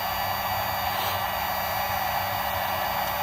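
A heat gun blows a steady, unbroken roar of hot air close by as it heats a stuck plastic coin tube, with no other sounds.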